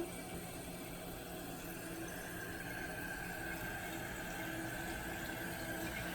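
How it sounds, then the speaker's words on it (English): Toilet tank refilling through a newly repaired fill valve, heard as a steady, moderate hiss and rush of running water that continues evenly throughout without talk. "So now we're just going to let the tank fill."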